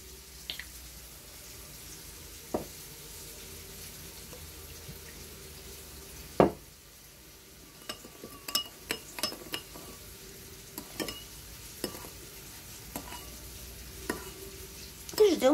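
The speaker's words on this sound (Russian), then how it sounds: "Ждем, когда обжарится наша свининка." Low, steady sizzle of pork frying in a pan after soy sauce is added, with scattered clicks and clinks of utensils and occasional drips, no talking.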